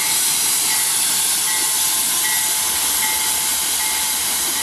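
An AC44i locomotive, number 2521, on a railway, with air brakes hissing in a loud, steady, broad rush that holds unbroken for several seconds close by, no voices.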